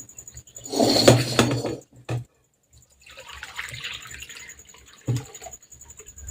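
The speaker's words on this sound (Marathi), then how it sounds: "आता स्वच्छ पाण्याने आपण धुवून घेऊ" Wheat grains being rinsed in clean water in a home kitchen, with a burst of sloshing and splashing, a short knock, then quieter swirling water and a final splash.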